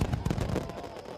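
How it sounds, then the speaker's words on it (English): Cartoon fireworks bursting at a Halloween celebration on the island of Sodor, a quick cluster of loud crackling pops and bangs filling the short moment with no speech. "They love Sir Topham Hatt's fireworks"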